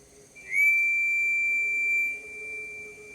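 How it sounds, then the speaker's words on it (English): A single long, clear steam engine whistle tone, sustained for about a second and a half, steady and fairly loud against a quiet background. "A headlamp pierced through the darkness, accompanied by a boisterous whistle."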